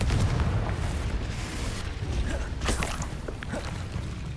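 A Confringo fire spell explosion in Hogwarts Legacy produces a deep, rumbling boom that rolls on for several seconds with scattered crackles and pops.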